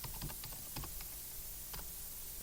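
Password typed on a computer keyboard during Kodi setup on Linux, a quiet run of irregular key clicks, clustered early and then sparser, with no talking.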